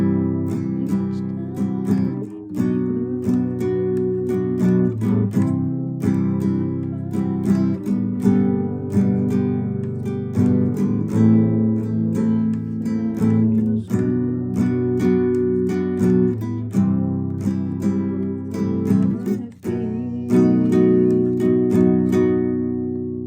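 Guitar playing the bridge section of a song in a lesson, steady strummed and picked chords ringing clearly and continuously, alone with no voice.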